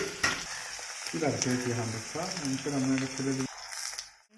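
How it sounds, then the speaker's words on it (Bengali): Chopped onions sizzle in a pan for a Bengali-style chicken curry with potatoes. A steady crackling hiss fills the background while a voice rises over it in the middle. "পেঁয়াজ কুচিয়ে ভেজে নিচ্ছি"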